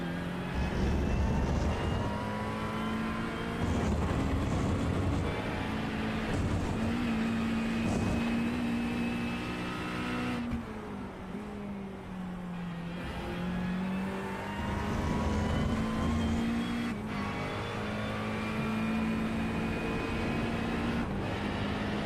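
A race car engine in the iRacing sim at Road America drones loudly and steadily, briefly easing off and dipping in pitch before climbing back to a sustained high whine.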